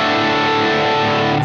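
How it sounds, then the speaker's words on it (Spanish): Electric guitar played through a MR JAX distortion pedal, a loud sustained saturated chord ringing dense and buzzy for the full moment and ending abruptly, no talk. "esta perilla no es solamente los brillos, sino es el tema de la onda de la distorsión"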